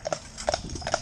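Hooves of a big Shire stallion being driven clip-clop in a quick, uneven sequence of several close, crisp strikes on hard ground, with no talk.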